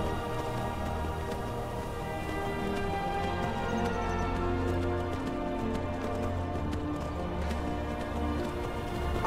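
Steady clip-clop of horse hooves at a trot in the video game Skyrim, continuous and fairly loud, with a constant layer of music or ambience underneath and no talking.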